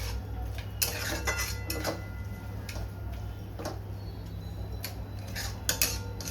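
Amla murabba stirred in a pan, with scattered clinks and taps of a spoon against metal over a low steady hum, close and irregular.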